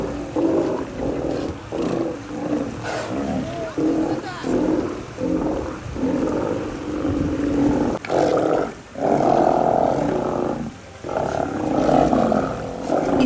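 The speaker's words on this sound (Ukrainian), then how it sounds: "правильна назва українською буде сивучі, чи ще північний морський лев" Steller sea lions, or northern sea lions, in Alaska roar in deep, rough bellows that overlap and repeat in bursts from a close colony, with brief gaps between calls and a voice speaking intermittently among them.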